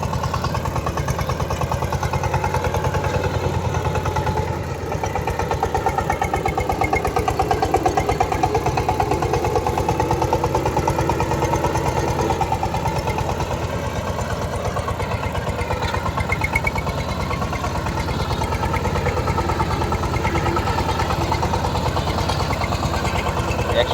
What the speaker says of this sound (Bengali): আপনারা দেখতেই পাচ্ছেন যে পাওয়ার টিলারের সঙ্গে মই বাধা হয়েছে